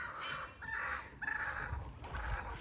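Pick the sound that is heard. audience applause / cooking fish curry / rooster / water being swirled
rooster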